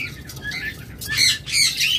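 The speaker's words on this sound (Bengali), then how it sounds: "এগুলো সব ব্রিড করা পাখি।" Caged lovebirds and cockatiels give a few sharp, close chirps and squawks in short bursts over a quiet background.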